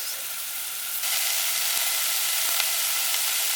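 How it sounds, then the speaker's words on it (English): Onions and soup vegetables sauté in a pan with a steady, close broadband sizzle that lifts slightly in level about a second in, dotted with a few faint pops. No voices are heard. "So you can hear them sauteing."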